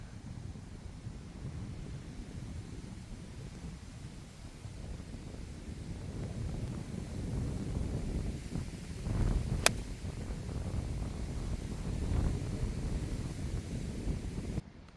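Wind gusting across an outdoor golf course, a continuous low buffeting rumble on the microphone that swells slightly midway, with one sharp brief click, no voices.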